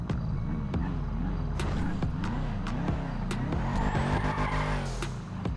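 A Nissan 350Z Rocket Bunny engine revving and shifting in GTA V, loud and close, its pitch rising and falling in repeated waves with sharp clicks and a brief tire squeal.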